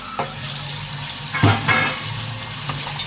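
Dishes being washed under running water at a small kitchen sink, a steady splashing rush of tap water with a few brief clatters of utensils, close and loud.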